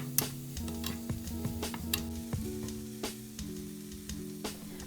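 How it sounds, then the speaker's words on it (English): Capsicum being stirred in a frying pan with paprika, chili flakes, black pepper and salt, giving a steady sizzle with soft scraping strokes and a few sharp clinks, heard under background music. "Then you can stir and mix it well."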